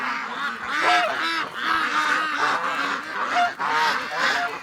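Ducks and geese honk and quack outdoors in a dense, continuous chorus of overlapping calls, close and loud, with no pause.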